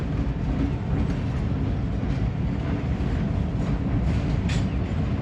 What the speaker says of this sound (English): Got a train bringing in some supplies.